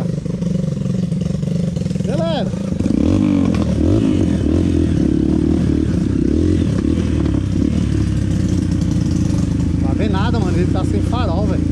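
A Honda XR230 trail motorcycle with no headlight revs loudly and continuously on a dark night-time dirt trail, its pitch rising and falling, while someone shouts over it.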